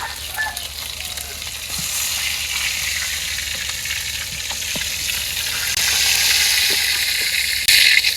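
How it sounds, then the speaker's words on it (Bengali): Fish frying in hot oil in a village kitchen, a steady close sizzle with a light crackle and occasional stirring scrapes, swelling a little louder toward the end. "মাছগুলো ভাজা হয়ে গেছে"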